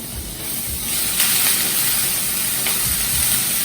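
Ginger-chili paste sautéing in very hot oil with green chilies, a loud, steady, close-up sizzle and hiss that runs the whole time, with faint stirring and no talking.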